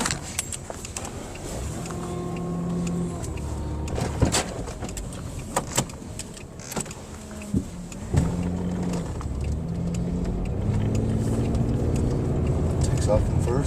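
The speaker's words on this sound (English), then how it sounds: "Backing out of the driveway." A 1997 Pontiac Grand Prix backing out of a driveway after a transmission change, its engine humming close by with shifting tones, a few sharp clicks and knocks over a continuous vehicle rumble.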